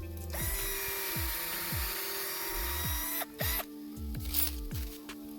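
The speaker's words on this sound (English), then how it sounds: "I got a drill bit just a little bit smaller than what my mount is" A power drill bores a pilot hole into a small ironwood tree for a trail camera mount, its close, steady whine running with a few speed dips before a brief stop and restart.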